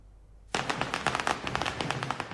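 Diwali firecrackers bursting across Delhi NCR at night, a sudden loud onset followed by a dense, continuous crackle of rapid pops that keeps going without pause.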